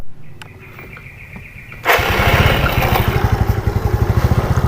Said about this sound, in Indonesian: Oke, motor sudah hidup.